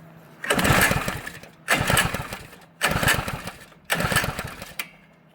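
An Earthquake rototiller engine with a known starting problem is pull-started four times in a row, each yank giving a loud, rough mechanical burst about a second long that dies away without catching.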